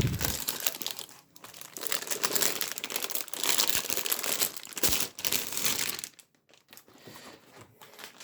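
A thin plastic bag from a French Army RCIR field ration crinkles and crackles continuously up close. The dense rustling runs with brief pauses, then trails into a few softer crinkles.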